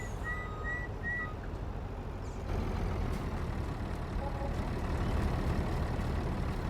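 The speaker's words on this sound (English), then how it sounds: "Let's back up the truck just a little bit." A log truck reverses in the Farming Simulator 19 game, its engine droning steadily throughout while a few short high beeps sound near the start.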